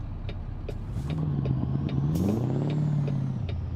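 A truck engine in American Truck Simulator revs up and settles, its pitch rising and falling smoothly, loud and close with no talk over it.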